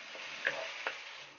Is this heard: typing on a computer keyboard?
no